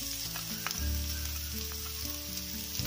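Garlic and sliced onion sizzle hard in oil left from frying marinated chicken, a dense, continuous crackling hiss over a low steady hum, with a few light clicks.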